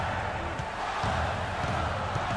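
Basketball arena crowd in the NBA 2K16 video game, a dense, steady roar with a few thuds of a ball bouncing beneath it, and commentators talking over the noise.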